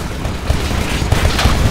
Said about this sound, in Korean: 폭발.